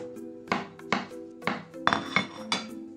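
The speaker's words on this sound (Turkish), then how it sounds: "Mantarları yıkadım, şimdi doğrayalım. Uç kısımlarını kesip ayıklıyorum." A knife chops washed mushrooms on a cutting board in a quick series of sharp taps, about eight strokes, close and fairly crisp, with no talking.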